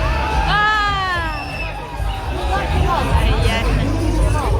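Dense crowd hubbub at a busy Swiss fair, with overlapping voices, children shouting and bursts of cheering forming a loud, continuous wall of chatter throughout.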